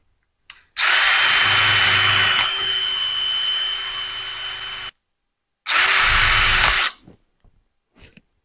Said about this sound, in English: Wonder what the wire wheel would do to it by itself.